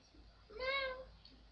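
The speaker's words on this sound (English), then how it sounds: "Hey, kitties. Kitty, meow." A cat meows once in the video game Minecraft, a short, clear, mid-pitched cry rising and falling over faint background hum.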